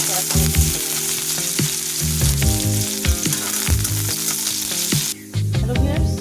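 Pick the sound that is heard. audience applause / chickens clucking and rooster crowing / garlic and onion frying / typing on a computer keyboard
garlic and onion frying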